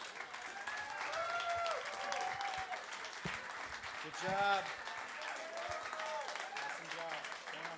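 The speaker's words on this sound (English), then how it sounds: "Let's give them a big round of applause" An audience at a songwriting showcase breaks into sustained applause and cheering, with a swell of clapping midway, while a voice speaks briefly over the crowd.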